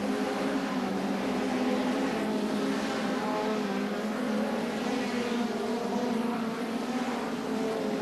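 Hot rod stock cars race around an oval track at the 1981 World Final, their engines producing a continuous, loud, dense roar that persists through the whole stretch with no speech.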